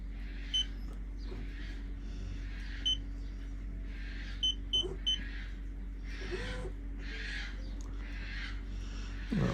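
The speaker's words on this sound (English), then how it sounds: "over the sound of a seagull, I think we can probably hear the hydraulic pump" Several short, sharp gull cries ring out at intervals over a steady low hum of a boat's hydraulic pump, fairly distant and faint, during a boatyard haul-out.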